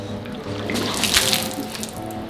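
Water runs steadily into a container, a continuous close splashing stream that swells a little in the middle, with no one speaking.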